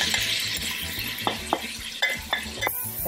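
Onion frying in melted butter in a pan, with a low steady sizzle and several distinct clicks and scrapes of a utensil stirring at irregular intervals, close by.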